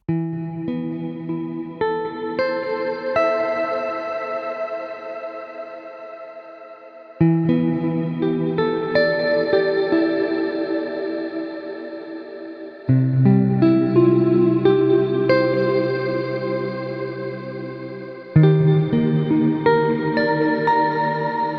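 Clean electric guitar chords ring out in several phrases, each washed in a wide, shimmering ambient reverb with chorus-like swirl and long fading tails.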